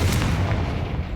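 The Confringo blasting spell in Hogwarts Legacy erupts as a single heavy, booming explosion that rumbles and fades over about a second, loud and close with no talk.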